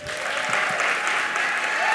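An audience applauds at an evening awards livestream ceremony, with steady, fairly dense clapping that lasts a couple of seconds, while a host's voice carries over it.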